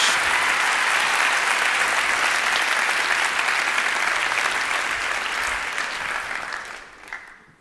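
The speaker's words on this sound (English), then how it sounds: "along with a big round of applause from all your friends." A big, steady round of applause from a crowd at a TED talk, loud and sustained for several seconds before tapering off at the end.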